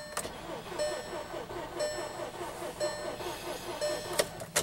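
Volkswagen Tiguan 2.0L TSI engine cranking over on a weak battery during a compression check, a rhythmic whirring starter churn with regular pulses, fairly faint and without an engine catching.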